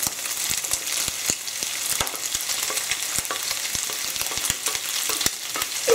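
Sausage sizzling steadily in rendered bacon fat in a pan for Polish bigos, a dense continuous crackle with frequent small pops, close and fairly loud, no voices.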